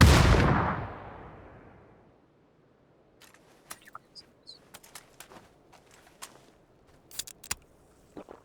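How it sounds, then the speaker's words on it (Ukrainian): In PUBG on the Erangel map, a loud burst at the start fades out, followed after a short quiet by scattered sharp cracks and pops of gunfire at varying distances, like a firefight. "він стріляє."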